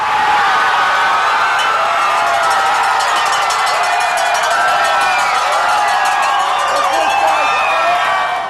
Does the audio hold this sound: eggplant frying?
no